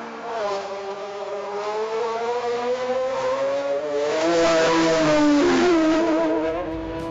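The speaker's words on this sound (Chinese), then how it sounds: "接着音效的主题是 F1 赛车呼啸而过的声音。" An F1 race car, synthesized, roars past at high revs, its engine note rising and sliding in pitch as it closes in, loudest near the middle and end of the pass, with no other sounds.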